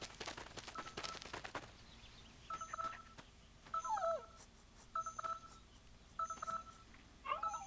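Oatchi, the space dog in Pikmin 4, whimpering in a video game scene: short high whines and chirpy beeping tones repeat in bursts over a quiet background, preceded by a brief scratchy noise, with no talking.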